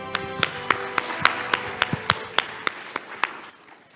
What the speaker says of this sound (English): please give a round of applause to all the panelists and moderator